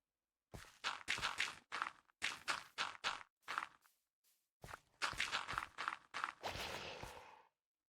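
Footsteps in the video game Minecraft during survival play: a long run of quick, crisp steps close by, with short pauses and an irregular pace, fairly quiet overall.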